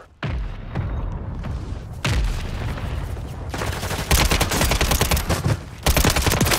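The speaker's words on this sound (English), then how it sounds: "I got sniped." Gunfire in a Call of Duty match, a sniper among it: heavy cracking shots and bursts, loud and close, with sharp booming reports starting around two seconds and dense rattling fire toward the end.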